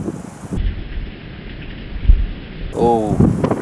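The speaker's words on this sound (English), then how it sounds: "we're outside barbecuing in the storm" Heavy rain pours steadily during an outdoor barbecue as a thunderstorm hits, with low rumbling and gusty wind swelling across the clip; a voice briefly rises near the end.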